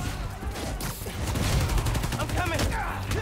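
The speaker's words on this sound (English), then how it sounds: "he shot that dude right in the head" Gunfire from enemies in the video game Spider-Man Miles Morales, loud rapid bursts of shots layered over game action and music, continuing throughout with a voice talking underneath.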